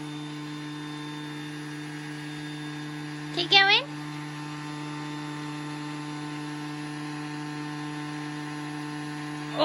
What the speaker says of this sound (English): Hoover this big pile.